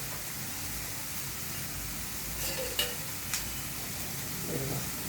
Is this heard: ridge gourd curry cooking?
yes